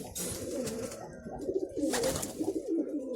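Pigeons coo steadily nearby in a loft with nest boxes, low, throaty, rolling calls, with several birds overlapping.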